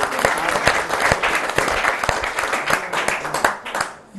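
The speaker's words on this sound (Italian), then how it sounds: "un applauso intanto al nostro" Audience applause at an Italian regional racquet-sports gathering honouring a table tennis club, a steady wash of many hands clapping at close range, with faint voices mixed in near the end as it tapers off.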